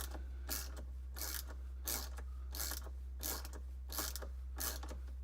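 A ratchet wrench tightens a hold-down bolt on the 12-volt battery of a first-generation Chevrolet Volt, giving close, rhythmic bursts of clicking about every half second over a low steady hum, with no talking.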